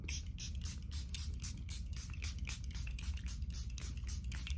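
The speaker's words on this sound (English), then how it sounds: "Sometimes we like to lock it in with setting spray." Quick repeated misty bursts from a small pump bottle of Charlotte Tilbury makeup setting spray, a dozen or more rapid pumps in a row, faint and close.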